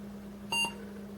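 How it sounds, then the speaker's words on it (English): A short electronic beep with bright, buzzy harmonics sounds once over a steady low hum, lasting a fraction of a second: a Gateway E-1000 desktop PC speaker beep played through external computer speakers. "Here's your example of a PC speaker beep through the actual computer speakers rather than through the little piezo beeper"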